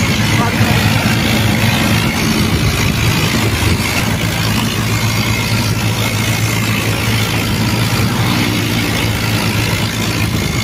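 Swaraj 855 and Mahindra 585 tractors racing side by side, their engines producing a loud, continuous heavy rumble and roar close by, with a voice talking over the noise.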